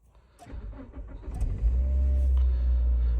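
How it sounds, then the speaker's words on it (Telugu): A 2008 Toyota Corolla 1.8 with manual transmission starts up: brief starter cranking, then the engine catches and settles into a steady, close, loud low idle. "ఇంజన్ స్టార్ట్ చేస్తా."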